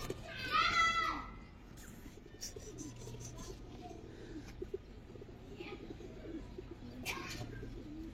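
Pigeons coo softly amid a busy pigeon market, with a brief chirping call at the start and people talking and moving throughout, the cooing low and partly buried under the chatter.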